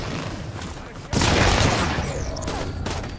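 Gunfire from a barricade in the video game Halo 5: Guardians, a sudden loud burst of rapid shots that continues densely for about two seconds after a quieter stretch of game noise, with a voice heard faintly.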